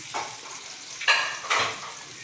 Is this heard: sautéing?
yes